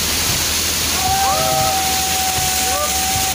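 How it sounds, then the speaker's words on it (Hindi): Steady, loud roar of a waterfall in a rocky outdoor setting, a broad continuous rush that fills the whole clip, with faint bird-like whistles rising over it partway through. "आज देखो कितना बढ़िया जलप्रपात है यहाँ पे"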